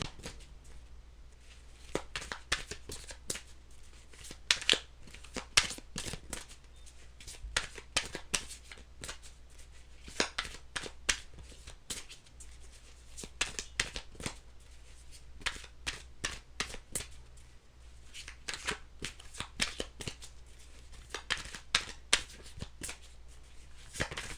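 Tarot cards being shuffled by hand over and over, a long run of crisp riffling bursts in a loose irregular rhythm, close and fairly quiet, with no talking.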